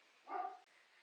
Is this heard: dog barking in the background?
yes